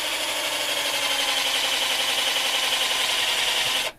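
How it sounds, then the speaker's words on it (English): A small, low-powered drill bores into a carved wooden hand with a steady, high-pitched whining grind that holds evenly for about four seconds before cutting off. "that's why I'm using a little wimpy drill for this"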